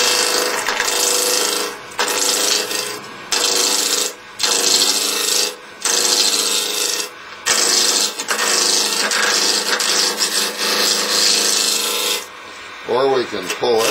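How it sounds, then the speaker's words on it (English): A deep-fluted roughing gouge cuts spinning wood on a lathe, making a loud, close, continuous rasping and scraping in repeated passes separated by brief gaps. "Now we can use a roughing gouge, and that's a real deep fluted gouge"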